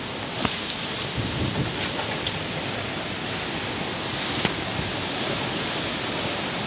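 A storm brings heavy rain and wind, a dense, steady roar of rainfall and gusts throughout, with a few sharp knocks or cracks standing out briefly above the downpour.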